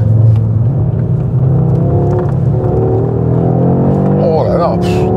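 A 2022 Audi RS3 accelerates, its engine a steady loud close rumble and whir under way throughout, with a brief high squeal near the end.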